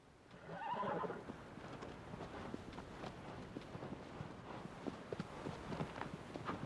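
A horse in the video game Shadow of the Colossus gives a brief, fairly loud whinny near the start, followed by steady, faint hoofbeats with wind in the background.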